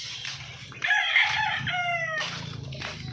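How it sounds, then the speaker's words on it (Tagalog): Chickens in a backyard coop in the provinces, a rooster crowing once loudly nearby over soft clucking and low background murmur. "Ito ang aking manukan guys."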